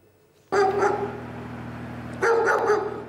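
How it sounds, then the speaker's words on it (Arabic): Stray dogs in the town of Nabatieh bark in two loud close bursts, a flurry of overlapping barks and yips with a short lull between them. "الكلاب الشاردة في النبطي تهاجم السكان وتؤرقهم"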